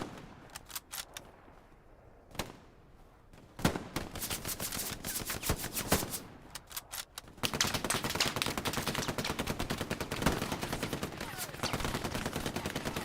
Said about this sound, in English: MG42 action comes in from down south and nails a support player.